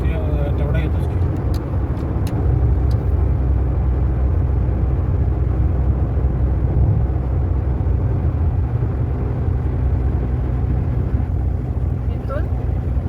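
Steady engine and road rumble inside a car on a long drive with the air conditioning on, a continuous dense drone throughout with brief faint ticks early on and no pauses.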